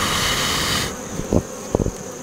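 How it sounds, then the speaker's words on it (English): Honeybees in an opened hive drone with a close, continuous buzz that drops off partway through, followed by a few soft knocks and rustles. "I'll move the bees out of the way a little bit."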